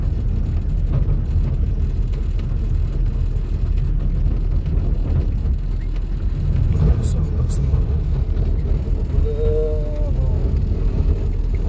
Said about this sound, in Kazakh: Аударып тастайтын сияқты жел болып жатыр